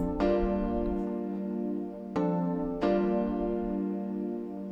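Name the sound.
Hybrid Keys Palladium keys combined with grand piano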